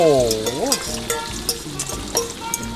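Hot oil sizzles in a pan while an egg batter is fried thick for a home-cooked Thai meal, a steady crackling hiss that runs under voices talking close by.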